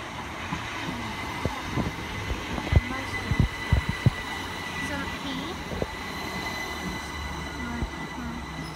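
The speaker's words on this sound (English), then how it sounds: "this is a class 377 arriving at Y" A Class 377 electric train arrives at a station, a steady rolling hum with clattering wheel knocks over the rail joints and a faint squeal, heard from the platform.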